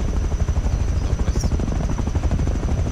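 Helicopter in the survival video game Rust flying overhead, a steady loud rotor thrum and engine whine that fills the whole moment, dense low-end pulsing with no talk over it.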